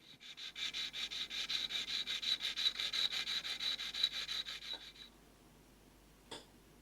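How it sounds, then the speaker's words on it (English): A marking gauge pin worked with a medium file: about five seconds of quick, even back-and-forth rasping strokes, close and steady, then stopping, followed by a single soft knock. "now I can start using the medium file and then finally the fine file to get a good finish"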